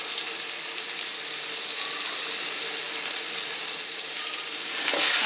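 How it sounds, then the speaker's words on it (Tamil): Tomatoes sauté with salt and turmeric in a hot pan, giving a steady, loud sizzle that holds evenly throughout with no voices. "சால்ட்டும் மஞ்சத்தூளும் போட்டு வதக்குனா தக்காளி சீக்கிரம் வதங்கிடும்."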